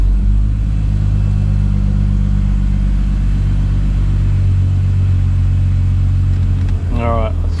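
A car engine idling while warming up, a loud, steady low rumble held close and unbroken, with a brief higher-pitched sound near the end.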